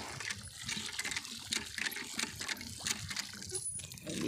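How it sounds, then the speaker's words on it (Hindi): Water splashes and trickles continuously as a face is washed in a village setting, with irregular close splashing over a running flow. "थोड़ा मुंह भी धो लूँ"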